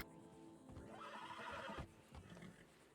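An Arabian horse gives a loud, shrill whinny that rises and then breaks off, followed by a few hoof thuds and quieter snorting.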